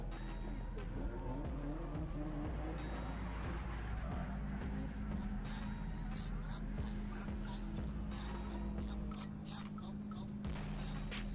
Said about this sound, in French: La l'Audi S4 V6 Turbo